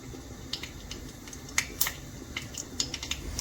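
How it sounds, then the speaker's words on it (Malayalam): Mustard seeds pop in hot oil in a pan, scattered sharp little crackles and snaps, irregular and close, over a faint sizzling hiss. "കടുക് പൊട്ടി തുടങ്ങിയിട്ടുണ്ട്."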